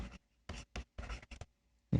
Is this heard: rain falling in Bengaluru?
no